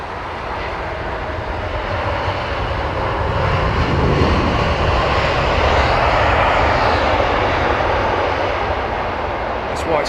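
Jet engines of a Boeing 777-200 at London Heathrow in wet weather roar loudly and steadily, a broad sustained rumble that swells slightly mid-way, with a person's voice faintly underneath.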